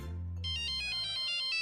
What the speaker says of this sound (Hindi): ये देखो फिर से फोन किया